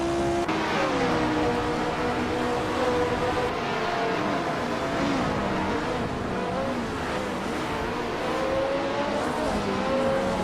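Several race cars, a Ferrari 1512 among them, roar through a video game race, their engines droning steadily and rising and falling in pitch without pause, with no voices over them.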